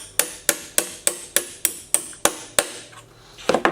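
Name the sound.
hammering to set a rivet on a trunk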